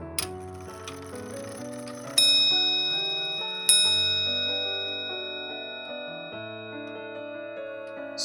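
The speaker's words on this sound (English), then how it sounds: "this clock has a very loud bell strike at the top of the hour" A loud bell on an English 30-hour tall case clock by John Pattison strikes twice at the top of the hour, each ring sustaining and slowly fading, with ticking and other ringing tones lingering throughout.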